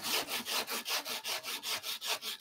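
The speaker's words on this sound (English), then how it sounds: "Sanding block. We'll even get this really quick and easy." Sanding block with abrasive paper worked back and forth over wood for an Adirondack chair, a steady rhythm of about ten raspy strokes, close and moderately loud, with no talking.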